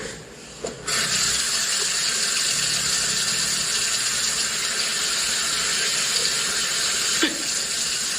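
A tap runs steadily to rinse the spice off cured Moroccan olives, a constant hiss of flowing water with a small knock near the start and another near the end.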